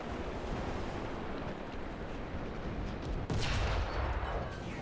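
Tank cannon firing in War Thunder, one sudden heavy boom late in the clip over a loud rushing engine and wind-like roar, followed by a broad rumbling tail.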